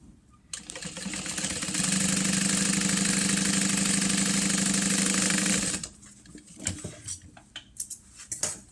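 A sewing machine stitches lunch box lining panels right sides together, starting up into a rapid, steady whirring run of about five seconds before stopping, followed by clicks and fabric handling sounds close by.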